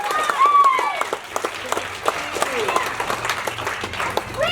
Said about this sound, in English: So we just want to give them a big round of applause